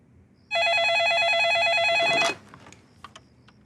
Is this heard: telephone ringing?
yes